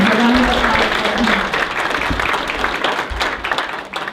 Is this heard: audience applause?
yes